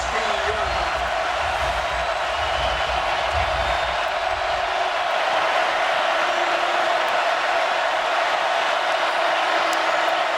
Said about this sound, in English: And the crowd gets more excited.